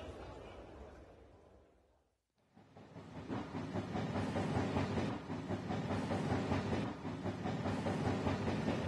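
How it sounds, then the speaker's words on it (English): A train rumbles in with a steady, loud roar and rattling wheels after a brief hush, the noise swelling and staying close. "Our train is coming now."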